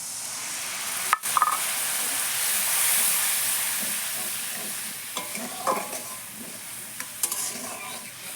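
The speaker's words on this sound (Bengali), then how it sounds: "এইভাবে এই মশলাটাকে একটু কষিয়ে নিতে হবে ভালোভাবে" Turmeric and chilli masala being stir-fried in hot oil for a homemade chicken curry: a steady loud sizzle with intermittent spoon scrapes against the pan, plus a sharp clatter near the start, no voices.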